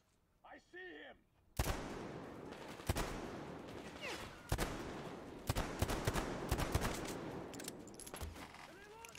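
Pistol shots in Metro Exodus ring out as a string of sharp, loud cracks spaced unevenly a second or so apart over a rumbling background, after a short voice at the start.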